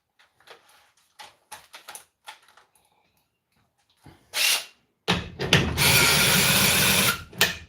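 Parkside drill with a slipping chuck: scattered light clicks and handling, a brief burst, then a loud, near whirring run lasting about two seconds before it stops.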